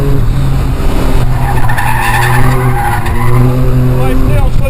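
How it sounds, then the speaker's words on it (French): A Caterham Seven 160/165 engine revs high on the road, a loud, steady, buzzing drone with rising and falling pitch and tire noise beneath, while someone talks over it. "Le moteur prend environ 7000 tours"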